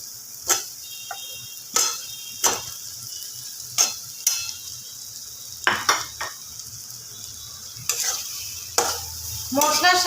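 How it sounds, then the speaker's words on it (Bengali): Repeated stirring and scraping of fried potatoes in a pan, a series of sharp utensil knocks against metal over a low sizzle. "সাথে আলুগুলোকে খুব ভালোভাবে মিশিয়ে নেব"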